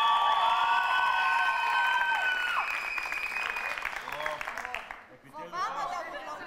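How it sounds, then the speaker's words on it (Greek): A studio audience on a Greek midday talk show breaks into loud applause and cheering, sustained for several seconds before fading into a few claps and voices. "ένα χειροκρότημα στα περιστατικά"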